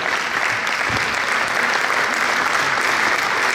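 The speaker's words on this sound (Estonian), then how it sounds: "Aplausos." Steady applause from an audience at a hunters' association's 70th anniversary event, many hands clapping loudly and continuously throughout, with no break.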